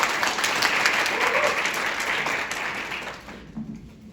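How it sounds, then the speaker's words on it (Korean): An audience at a university lecture claps to welcome a guest speaker, loud and dense at first, then gradually thinning and fading toward the end, with a faint voice at the close. "큰 박수 부탁드립니다."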